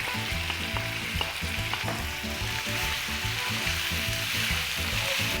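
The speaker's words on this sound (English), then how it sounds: "I stir until the vegetable become brown" Vegetables frying in a pan with well-browned meat for pasta alla Genovese, a loud continuous close sizzle with rhythmic scraping as a spoon stirs them around.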